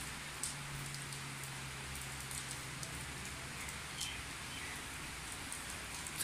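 Steady morning rain falls in hilly Abbottabad, making an even, continuous hiss of drops on surfaces throughout. It is soft and fairly close, with no voices.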